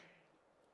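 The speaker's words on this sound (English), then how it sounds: "I can't stop coughing." Short cough from someone with a cold, a single loud burst at the very end after near silence.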